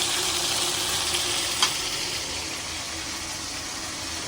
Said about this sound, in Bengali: তো এখন আমি মাংসটা ভালোভাবে কষাই নিয়ে নেব।